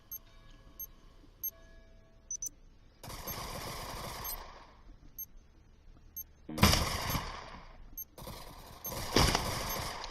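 Glock pistol gunfire in a Counter-Strike match, heard as a few sharp isolated pops early on, then dense loud bursts of rapid overlapping shots coming in clusters.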